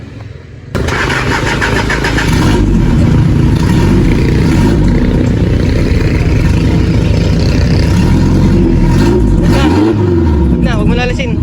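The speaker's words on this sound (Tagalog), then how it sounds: "So ipaparinig nga ni Kuya Mario yung tunog ng muffler neto." Owner-type jeep engine starting up and revving hard through its muffler, a loud, close, continuous roar with rising and falling throttle, with people talking over it toward the end.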